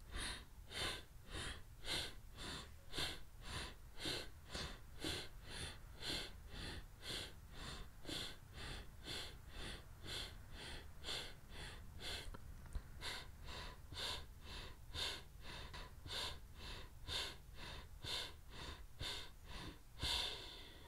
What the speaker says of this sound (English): let's do 20 strokes of the fire breath, moving the belly in and out